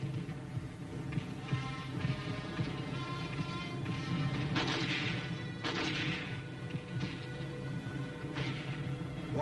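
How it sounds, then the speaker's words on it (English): Tank and machine gun fire in a Korean War battle, heard as a dense, muffled wash of booms and crackling bursts with several louder blasts, steady and loud over a rumbling background. "While tanks and machine gun crews lay down a blanket of fire to keep the enemy pinned down"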